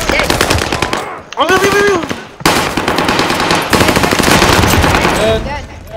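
Loud rapid automatic gunfire from the video game Warzone on the Fortunes Keep map, long rattling bursts split by short pauses, with a player talking briefly over it.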